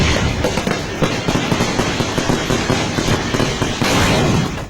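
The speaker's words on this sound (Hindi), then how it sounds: "जब आतिशबाजी के ढेर में लगी आग" Dense, rapid crackling and popping explosions from a burning pile of fireworks at a Kerala temple, continuous and loud, with a heavier burst near the end.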